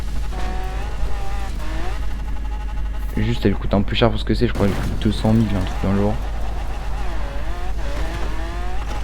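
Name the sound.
Nissan GTR driving with tire squeal, video game Forza Horizon 4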